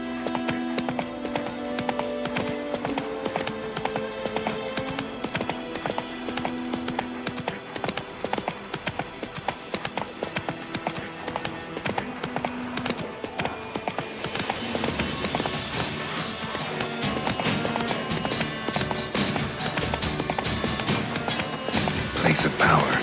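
Roach the horse gallops in The Witcher 3, a steady clip-clop of hooves with occasional whinnies running loud and continuous over game music and ambience, while someone speaks briefly.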